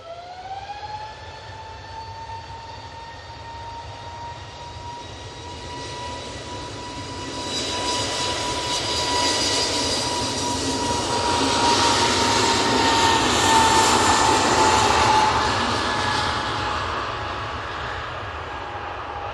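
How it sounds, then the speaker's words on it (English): An Airbus A320neo departs Manchester Airport bound for Gibraltar, its engine roar swelling from a steady rumble into a loud, broad rush with whining tones over about twenty seconds. "A320neo going off to Gibraltar."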